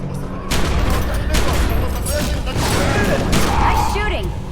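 The Secret World game gunfire comes as a dense, loud fusillade of rapid shots and booms, with mechanical clanks mixed in, over a busy combat soundscape.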